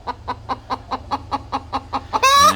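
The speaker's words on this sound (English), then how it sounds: "That's a I just laid an egg sound" A hen clucks about ten times in an even, rhythmic series after laying an egg on a ranch, then breaks into a louder, drawn-out squawking cackle at the close, heard near and alone.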